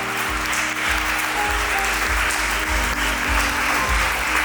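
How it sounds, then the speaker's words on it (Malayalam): A hall audience applauds steadily at an honoring ceremony where guests are draped with ceremonial shawls, dense sustained clapping from many people throughout, with a low rhythmic thump beneath it. "സ്നേഹത്തോടെ കൈയടിക്കാം."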